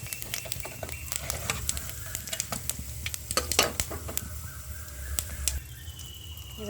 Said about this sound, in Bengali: আর পাঁচফোড়ন দিয়ে দেবো। লাল লাল করে ভেজে নিতে হবে।